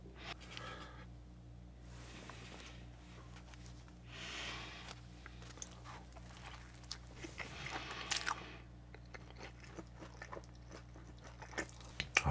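A Wendy's Korean BBQ cheeseburger being chewed close to the mic, with soft wet bites and crunchy crackles scattered over a steady low hum, growing sharper toward the end.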